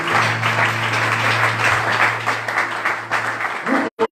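A church congregation applauds in dense, loud, sustained clapping under a steady low hum, then the sound cuts off abruptly just before the end.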